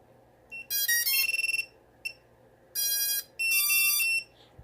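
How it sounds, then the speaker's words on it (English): A small buzzer newly soldered onto an Eachine Trashcan drone sounds in several sharp, loud electronic bursts separated by short silences, one of them a rapid stuttering beep, with nothing else audible. "Not the best soldering job on this buzzer, but let's check it and see if it works."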